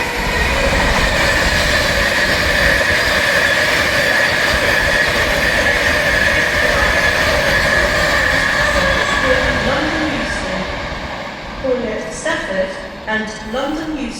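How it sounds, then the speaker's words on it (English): An Avanti Pendolino train rolls into a platform at Crewe station loudly with steady rumble and hiss, then slows, its wheels squealing and brakes whining briefly near the end. "The next train to arrive at platform 6 will be the 11:55."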